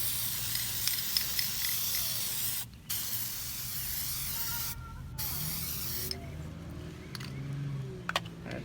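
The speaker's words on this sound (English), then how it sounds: "Permatex copper spray." A can of Permatex copper spray sprays in several long hissing bursts separated by short pauses, close up with quiet background, coating an Infiniti Q50 downpipe installation.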